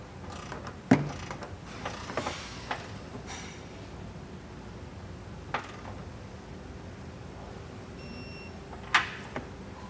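A torque wrench tightens a flange nut on a trailer hitch bolt under a 2023 Toyota Camry, faint ratcheting and metallic clicks with a few sharp snaps scattered over quiet background noise.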